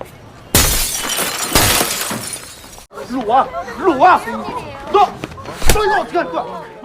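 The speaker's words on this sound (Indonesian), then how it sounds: "langsung saja melempar jendela hingga kacanya pecah" A window's glass pane breaks when something is thrown at it: two loud, close shattering crashes land in quick succession, then people talk over a lingering background.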